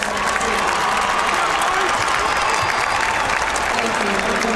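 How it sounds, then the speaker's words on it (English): A graduation-ceremony audience at Peoria High School's 2017 commencement applauds students, producing steady, dense clapping that fills the space evenly from start to finish with a faint crowd murmur beneath. "Please applaud these students for their involvement in the process."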